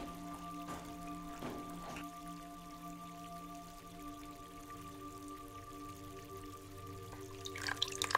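Healing water poured onto wounds in a fantasy audio drama: a few soft drips and splashes, one near the start and a small cluster at the end, over a faint sustained musical drone.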